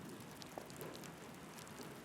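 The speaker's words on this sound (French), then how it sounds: "et dehors il pleut." Rain falling outside on a weekday morning, a faint, even hiss of drops with occasional small taps, steady throughout and without any voices.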